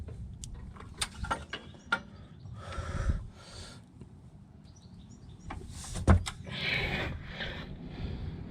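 Intermittent metallic ratcheting clicks and clanks from a wrench on a Volvo front anti-roll bar bolt, short bursts separated by pauses, close and moderately quiet with light handling noise between.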